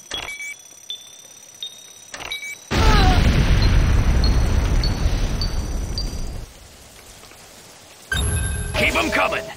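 A GDI weapons factory exploding in the video game Renegade, a sudden loud roaring blast that rumbles for several seconds and then fades, framed by synthetic game beeps and effects.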